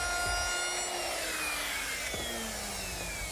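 Router fitted with a quarter-inch round-over bit easing the front corners of plywood shelves: a loud, steady high whine with a brief cutting shift midway, alone and continuous.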